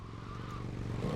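Police motorcycle engine in GTA Vice City Stories on PS2, a steady low droning idle that swells slightly toward the end, close and moderately faint, with no voices.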